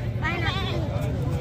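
A goat bleats in a wavering, nasal call at a crowded livestock market in Rajanpur, Pakistan, heard close amid steady crowd chatter and background voices.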